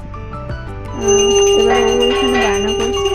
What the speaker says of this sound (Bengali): ও ঘন্টাটা বাজাবে